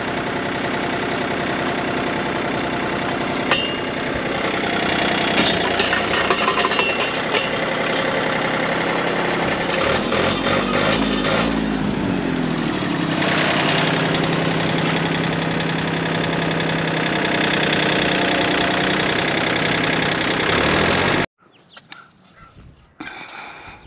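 A farm tractor engine idles steadily and loudly in a wet spring setting, a continuous close rumble with a few knocking clatters, then cuts off abruptly near the end, leaving faint outdoor sounds.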